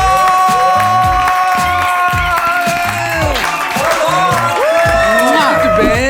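A television talk show audience welcomes a guest with applause, cheers and whoops, a loud bright crowd mixing claps with shouts while music plays beneath the noise.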